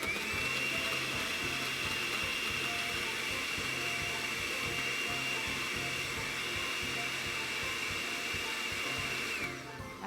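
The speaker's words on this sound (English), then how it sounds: "And now we blend one more time." An electric blender whirs through Trinbagonian sea moss punch with ice, holding one loud, steady motor drone for about ten seconds before cutting off near the end.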